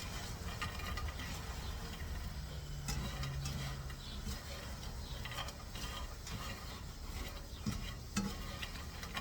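Garlic sourdough croutons are tossed in a pan, making a continuous rustle and scrape with light clinks and a faint sizzle underneath.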